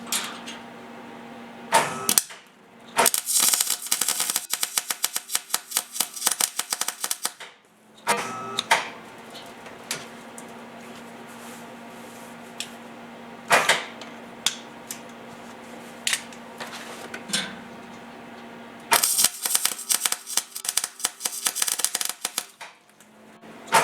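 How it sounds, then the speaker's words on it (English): Wire-feed plug welding on a Willys CJ3B Jeep body tub, short bursts of loud crackling, buzzing arc sound in several separate runs, broken by quiet pauses between welds. "then we'll go ahead and make a weld"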